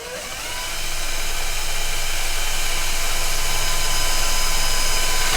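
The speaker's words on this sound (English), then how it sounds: "I'm going to see if I can drill through it." A loud, steady power drill whine with a harsh, noisy grind, drilling through an electrical box, that builds over the first second and then holds without pause.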